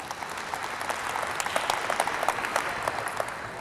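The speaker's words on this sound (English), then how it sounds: "And you can clap for that." An audience at a South Side community safety town hall in Chicago applauds, steady dense clapping throughout with sharper individual claps standing out near the front.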